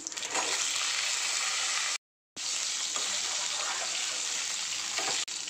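Tomato, big onion, dried red chili, tamarind and garlic hit hot oil in a pan with a loud, steady, close hiss of frying. The sizzle cuts out briefly, then returns just as strong, with no voices.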